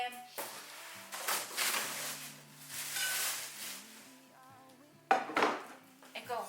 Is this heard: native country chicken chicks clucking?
no